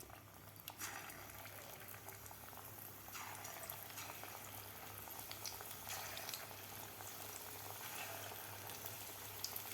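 Palak batata bhaji, spinach and potato fritters, frying in hot oil, giving a faint, steady bubbling sizzle with a few brief sharper spits and crackles and no talking.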